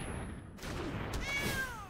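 Cat card in MTG Arena giving a game-sound meow, a drawn-out, wavering cry after a brief effect sound, loud and close.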